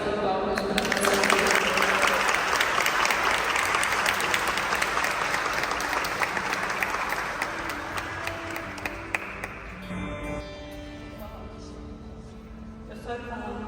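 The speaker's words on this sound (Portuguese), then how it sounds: "Salve de palmas para você" A church congregation at a night prayer service breaks into applause, dense loud clapping that carries on for several seconds before thinning to scattered claps near the end, with voices audible underneath.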